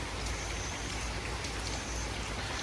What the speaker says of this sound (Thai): แล้วก็เวลาฝนมามันก็จะมาลักษณะแบบนี้เลยครับ